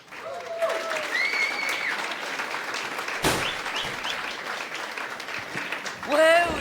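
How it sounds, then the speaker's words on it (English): An audience greets a band with a round of applause, a steady, moderately loud wash of clapping while voices talk and exclaim over it. "So please give them a big, big round of applause."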